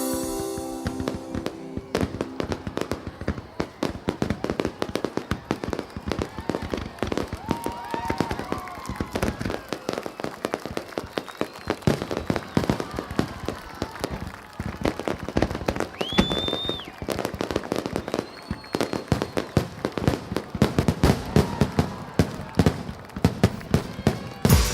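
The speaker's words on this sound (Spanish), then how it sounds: "los fabulosos espectáculos de fuegos artificiales" Dense, continuous fireworks from a display in Bangkok crackle and pop for the whole stretch, with sharp bursts, rapid firecracker-like rattles and an occasional whistling rise.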